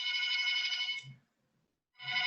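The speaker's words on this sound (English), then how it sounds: "Is that your phone in the office? The one ringing?" An office telephone rings with two loud electronic bursts separated by a short pause.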